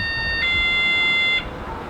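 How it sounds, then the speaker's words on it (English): A freezer's open-door alarm sounds a steady high electronic beep tone for about a second, close and fairly loud, then cuts off, leaving a quiet room. "It's going to keep chirping like this while the door is open, letting you know that it's open."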